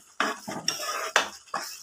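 A spoon scrapes and knocks four times against the pot while potato egg curry seasoned with garam masala is stirred, each short clatter standing alone against near silence.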